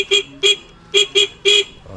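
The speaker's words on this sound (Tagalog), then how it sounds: "At meron din siyang busina." Five short, bright tricycle horn toots in an uneven rhythm, two pairs and a single, loud and close, with quiet gaps between them.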